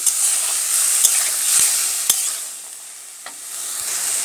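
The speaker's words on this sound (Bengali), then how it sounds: "শাপলা নাড়টা দেওয়া হয়ে গেলে ভালো করে মিশিয়ে নেব" Water lily stems cooking in a pan give off a constant bright, hissing sizzle, with a few crisp taps and clicks as a utensil stirs them close by.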